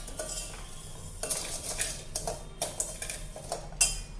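Dry barnyard millet (varai) roasting in a pot, stirred with a metal spoon that gives repeated scraping clinks and taps against the pot, in irregular bursts over a low background hum.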